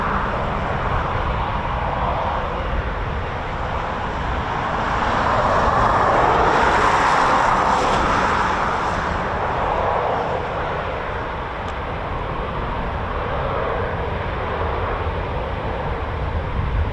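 A Eurofighter Typhoon FGR4 jet takes off at RAF Coningsby, a loud sustained roar of engine thrust that swells toward the middle and then holds steady at a distance, with no voices.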